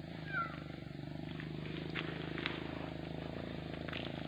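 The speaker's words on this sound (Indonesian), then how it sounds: "sepertinya ada suara sepeda motor dari sana" A Honda Supra motorcycle heard from a distance on a village road, its engine a steady low putter that slowly grows a little louder as it approaches, with faint outdoor ambience.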